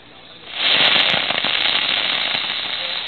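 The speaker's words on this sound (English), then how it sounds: "He threw the firecracker." A thrown firecracker bursts into a loud, close crackling explosion that rings on as a dense crackle for about two and a half seconds.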